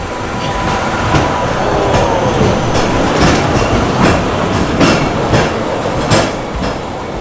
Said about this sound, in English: Oh, a tram is coming!